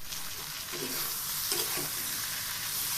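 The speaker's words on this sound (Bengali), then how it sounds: "খুব সুন্দর করে কষিয়ে নিচ্ছি" Chili powder masala sautéing in oil for a koi fish curry, a steady close sizzle with a few soft spoon scrapes against the pan, no voices.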